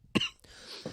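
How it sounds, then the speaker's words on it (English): A single close, sharp cough bursts out, followed by a brief breathy rasp and a faint second catch of the throat. "I'm just coughing"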